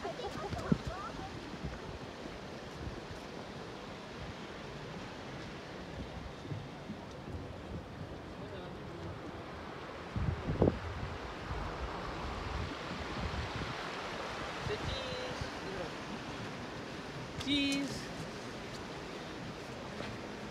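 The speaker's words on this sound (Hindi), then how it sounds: "अब देखो पानी कितना तेज़ी से आ रहा है सारा ऊपर बर्फ़ पिघल रही है उसका पानी" A fast-flowing river swollen by melting snow rushes in a steady, soft broadband wash, fairly distant and quiet, with a few faint voices and small knocks over it.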